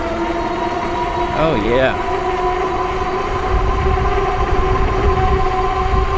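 A Cyrusher Rumble e-bike with a 7-gear drivetrain runs its motor under throttle, giving a steady electric whine and hum over rushing wind noise, with a rider briefly speaking.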